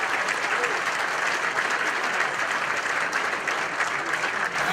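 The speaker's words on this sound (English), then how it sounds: "A round of applause for Brendan Gallagher." An audience at a sports celebrity breakfast applauds Brendan Gallagher, a dense, steady wash of clapping hands that holds evenly throughout at moderate loudness.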